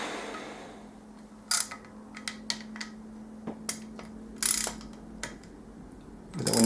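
A ratchet tightens a bolt on a Yamaha YZ426F dirt bike engine during a rebuild, heard as several short, quiet bursts of rapid clicking separated by pauses, close by and with no talking.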